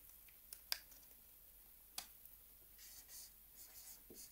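Pen writing colour names on paper, faint scratchy strokes with a few sharp taps in a quiet room.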